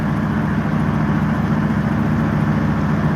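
A John Deere 8850 tractor with a V8 engine runs in a field, giving a steady, close, low rumbling drone with no break and no voices.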